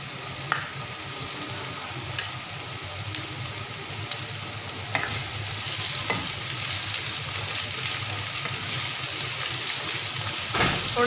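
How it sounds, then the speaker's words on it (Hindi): Ginger garlic paste sizzling and frying with light-brown onions in a pan while making karela chicken masala, a steady crackling hiss with occasional stirring scrapes, close and continuous. "अब इसमें मैं अदरक लहसुन का पेस्ट डालूँगी।"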